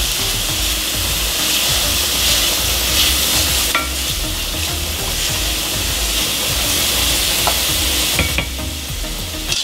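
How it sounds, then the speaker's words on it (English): Macaroni and onions with garlic sizzle steadily in a pan while being stirred, with a continuous loud frying hiss and scraping stir strokes throughout, close by and without talk. "Stir our macaroni again"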